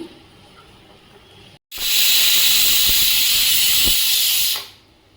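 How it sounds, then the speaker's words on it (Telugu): Steam hisses loudly out of a pressure cooker after three whistles with the stove switched off, a sudden steady roar that holds for about three seconds before fading out. "3 విజిల్స్ వచ్చినాయండి. ఇప్పుడు మనం స్టవ్ బంద్ చేసుకొని ఆవిరిపోయే వరకు చూడండి."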